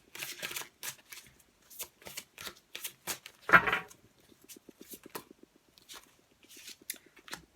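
Tarot cards are shuffled by hand in close, crisp bursts of riffling and slapping, irregular strokes with short quiet gaps and one heavier riffle midway, no talking.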